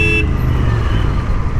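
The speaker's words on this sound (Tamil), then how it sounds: "ஆரன் தானே அடிச்சேன்" A motorcycle horn gives one short toot right at the start while riding a superbike, then gives way to steady close engine and road rumble.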